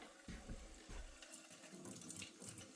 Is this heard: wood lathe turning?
no